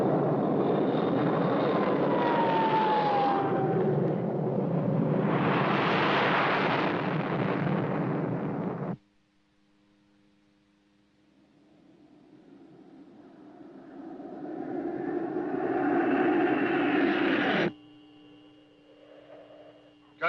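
Jet fighter aircraft flying in the 1950s sci-fi film The Lost Missile: a loud, sustained roar that cuts off abruptly, then a second roar swells back in and drops to a lower hum.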